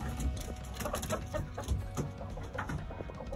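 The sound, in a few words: chickens clucking in a coop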